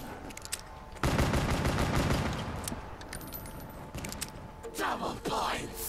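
Rapid automatic weapon fire in Black Ops III Zombies, a dense sustained burst of shots lasting several seconds, followed by scattered clicks and a brief voice.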